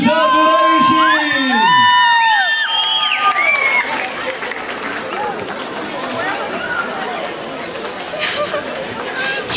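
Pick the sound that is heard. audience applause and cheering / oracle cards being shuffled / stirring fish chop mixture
audience applause and cheering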